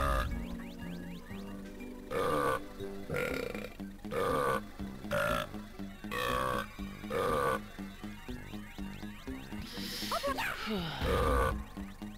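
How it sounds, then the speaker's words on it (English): Burp-like keyboard notes from a Simon Says-style minigame in Donkey Kong 64 sound in a run of short, deep, belching tones, each separated by a brief pause, with a longer cluster near the end. "kind of a game of Simon Says, but you know, with like keyboard and that sounds like burps"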